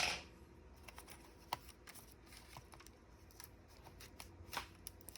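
An old Compaq V3000 laptop's plastic casing being pried and pulled apart, producing faint scattered clicks, snaps and rustling crackles with a louder pop at the start.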